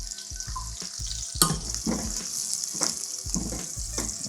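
Garlic sizzles steadily in hot coconut oil for a vegetable curry, a close, continuous frying hiss. A spoon knocks and stirs against the pot in repeated soft beats throughout, with no talking.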